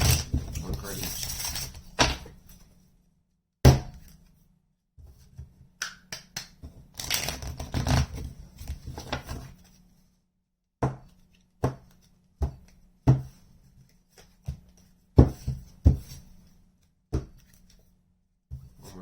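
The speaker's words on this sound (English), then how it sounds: "One more shuffle." Tarot cards being shuffled by hand close up, sounding as bursts of riffling and sharp snaps that repeat at irregular moments, with brief quiet gaps between them.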